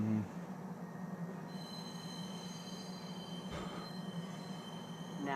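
A train in the video game Star Citizen pulls into a spaceport, giving a steady rolling rumble with high metallic wheel squeals and a brief clunk partway through.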